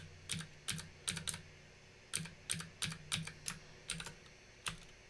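Someone types a Wi-Fi password on a computer keyboard, producing clusters of crisp key clicks in irregular bursts with short pauses between them, close and fairly quiet in a still room.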